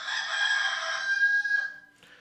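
Rooster giving a single long crow, clear and fairly close, the call holding steady before it tails off with a short cluck at the end.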